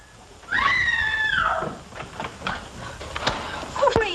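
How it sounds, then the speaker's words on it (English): A woman's scream rings out loud at first, followed by scattered dull thumps like pounding on walls in an old black-and-white comedy horror film. "What's all the racket? Pounding on walls,"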